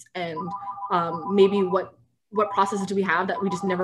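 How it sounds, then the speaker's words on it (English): A house phone rings with a steady electronic trill in repeated bursts, clearly audible beneath continuous conversation, with a brief pause between rings. "So sorry about the phone."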